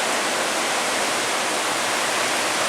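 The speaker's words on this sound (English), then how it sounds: "the storm is definitely upon us now, like the brunt of it" Hurricane Ian's wind and heavy rain roar outside at night, a dense, steady wash of noise with no breaks, fairly loud and without talk.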